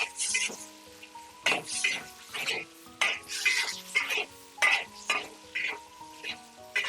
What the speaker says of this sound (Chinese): 然后我们再下入瘦肉， 再把瘦肉给它炒散。